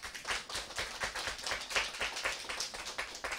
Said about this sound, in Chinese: 我们要来热烈掌声欢迎